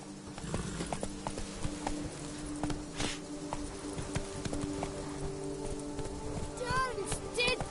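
Hooves of Roach, the horse in The Witcher 3, clip-clopping at a steady pace in the game, close and rhythmic, with voices talking over them and a brief whinny near the end.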